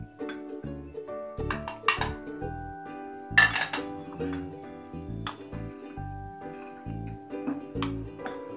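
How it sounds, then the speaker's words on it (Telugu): Fried brinjal being stirred into rice for Karnataka-style vangibath, with repeated clinks and scrapes of a spoon against a metal pan in irregular bursts under steady music. "ఇప్పుడు ఇందులో వేయించిన వంకాయలు వేసుకొని కలుపుకోవాలి."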